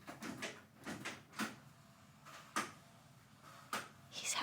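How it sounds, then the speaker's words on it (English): A cat struggles with a door indoors, producing a series of soft knocks, bumps and rattles at irregular intervals, fairly quiet and close, with no speech. "He's having some issue with the door."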